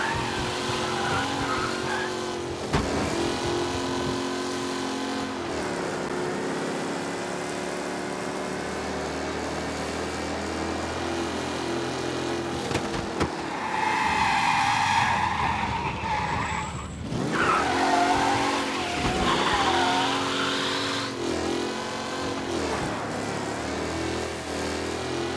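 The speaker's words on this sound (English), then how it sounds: "Officers reporting a race car driving at speed through the city." A race car speeding through city streets in the video game Mafia: Definitive Edition, with a continuous engine roar, gear shifts and repeated tire squeals and skids, plus game music and background noise.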